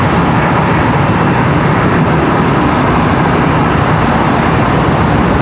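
A loud, steady roar from an American Airlines jet at Charlotte Douglas International Airport continues unbroken throughout, with broadband engine noise and no other sounds.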